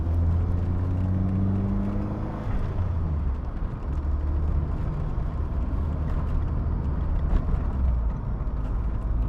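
A 1988 Lancia Delta HF Integrale cruising in fourth gear at around 30 mph, its engine a steady, loud, low drone with road rumble and no one talking.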